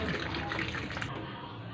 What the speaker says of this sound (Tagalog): So, lalagyan natin ng tubig.